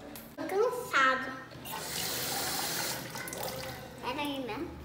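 Water from a tap runs steadily into a kitchen sink to fill it for washing a pile of dishes, a continuous broadband rush lasting a few seconds, with a voice speaking briefly at the start and end.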